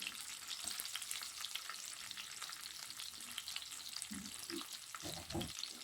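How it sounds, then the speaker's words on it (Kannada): Onion, finely chopped carrot and curry leaves frying in hot oil in a pan, a steady crackling sizzle with a few low stirring knocks toward the end. "ಫ್ರೈ ಆಗ್ತೈತೆ ನೋಡ್ತಾ ಇರ್ಬೋದು."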